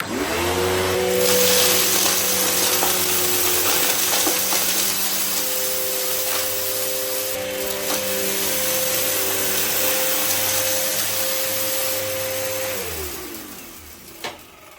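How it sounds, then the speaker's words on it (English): A loud Samsung 1800W Twin Propel SU3355 vacuum cleaner runs continuously on carpet with a steady motor drone and crunchy, gritty rattling, then winds down as it switches off near the end. "that was the loudest crunchy vacuum I've ever heard"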